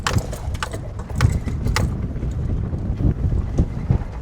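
Strong wind buffets the microphone with a steady low roar and gusty rumbles throughout, with no voices.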